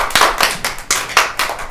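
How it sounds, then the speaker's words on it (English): Audience at a school event giving a round of clapping, with distinct, fairly loud claps coming in quick uneven bursts that run close together for under two seconds. "let's give a big clap for Menachem."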